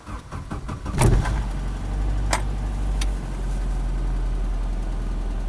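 A Saab 900 engine settles into a steady idle after a brief sharp clatter and a few clicks, leaving a low, even mid-pitched hum close by with no one talking.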